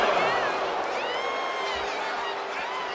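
Arena crowd in the WWE 2K26 wrestling video game cheering and roaring steadily throughout, a dense sustained wall of voices with whistles and rising shouts, loud and continuous.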